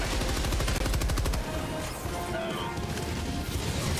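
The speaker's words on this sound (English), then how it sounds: "That is a turret there that will blast us immediately." Turret firing in the video game Helldivers 2, a rapid, loud stream of evenly spaced shots hammering for over a second, then giving way to a dense, roaring wash of battle noise.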